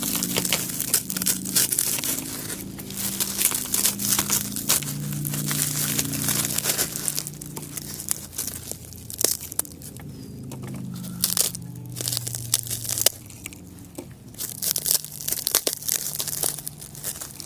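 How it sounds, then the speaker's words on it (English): Leaves are peeled off a charred, carbonized half head of cabbage, producing repeated dry crunches, crackles and brittle tearing snaps in uneven bursts, close and fairly clear, with faint low sounds beneath. "We'll try peeling off some leaves."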